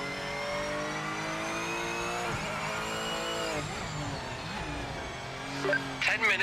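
A race car engine in the video game Project Motor Racing drones and rises through revs, with a sharp shift-down and falling pitch midway, then gear changes and bursts near the end, steady and up-front under faint talk.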